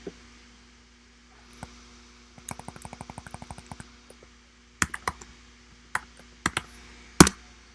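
Someone types on a computer keyboard, nearby clicky keystrokes in a quick burst of rapid presses, then scattered harder individual taps and a louder final clack over a steady low hum.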